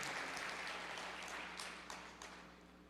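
Church congregation applause for the Lord, dense clapping from many hands that is loudest at first and gradually fades, with a few distinct claps near the end.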